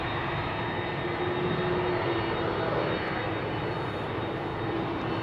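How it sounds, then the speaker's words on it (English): A business jet takes off from runway 22 at Amsterdam Schiphol, its engine roar steady, broad and fairly loud throughout, with a faint tonal whine running underneath. "BizJet taking off."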